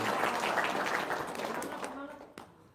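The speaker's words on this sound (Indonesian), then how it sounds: "Tepuk tangan dulu dong." Audience applause at an Indonesian religious talk swells briefly then fades out, giving way to a speaking voice near the end.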